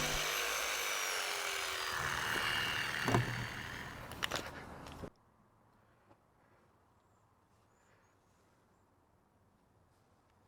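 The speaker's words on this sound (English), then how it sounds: "here I'm just cutting out the floor" A borrowed jigsaw cutting out a floor piece for a Seahawk 4 inflatable boat, buzzing loudly and steadily for about five seconds before stopping abruptly, leaving a quiet room.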